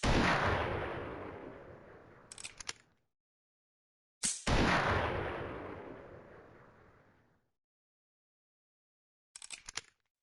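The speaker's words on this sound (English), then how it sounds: "with a quick pull of the trigger, the hammer falls, firing the round. 6 shots, one after the other" A Colt Single Action Army revolver fires two loud booming shots a few seconds apart, each with a long fading echo, followed by short clattering metallic clicks.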